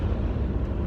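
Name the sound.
BMW 545i 4.4 V8 engine accelerating hard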